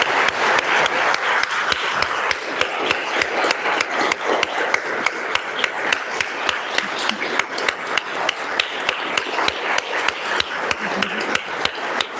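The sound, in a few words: audience applause in a legislative House session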